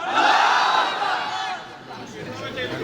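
A large religious gathering roars back the takbir response to a Nara-e-Takbir call, a loud massed shout of many voices that swells at first and then fades into a lingering murmur.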